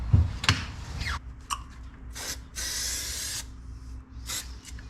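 Aerosol spray can hissing onto foam padding in a 1971 Super Beetle, several short bursts followed by one longer steady spray, close and fairly loud, with light handling knocks between.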